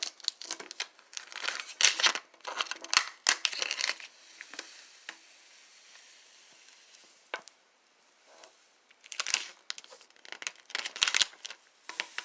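Backing paper from an adhesive etching stencil rubbed across a large glass bar tabletop, giving close, soft crinkling and scraping strokes in uneven bursts with quieter stretches between.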